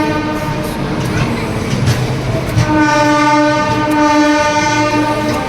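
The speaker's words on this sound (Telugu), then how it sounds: "మన ఆగున్న ట్రైన్ని ఓవర్టేక్ చేస్తుంది పక్కనే" A passenger train overtakes a stopped train alongside near Secunderabad, rumbling past close by, with a loud sustained horn over the steady roar of the passing carriages.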